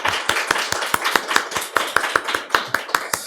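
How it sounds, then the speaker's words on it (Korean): Applause of welcome from a church congregation during a Sunday worship service: a brisk run of sharp, close claps at a steady rhythm for a few seconds, with no talking. "환영하는 박수 하도록 하겠습니다."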